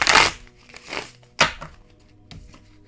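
Tarot cards being shuffled by hand, a few quick papery riffles and crisp flicks spaced across a short stretch, close and fairly loud with no talking.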